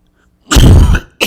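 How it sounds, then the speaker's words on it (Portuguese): A close, loud cough, a harsh burst followed by a shorter second one after a brief pause. "Eu tô com uma tossinha chata, né?"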